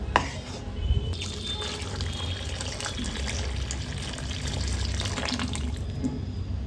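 Jaggery water strained and poured into a pan for menthya hittu, a fenugreek flour dish, making a steady close trickle and splash of liquid with faint clinks and no speech over it.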